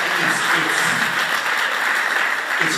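A crowd at a university gospel choir performance keeps up sustained applause, a thick, even roar of clapping that holds steady from start to finish, with some voices blending faintly underneath.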